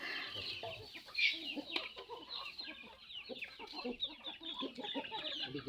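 A flock of chickens clucks and murmurs continuously nearby, many overlapping calls forming a busy, steady chatter.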